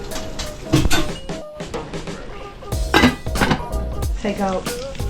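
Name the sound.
putting a cover on a cooking pot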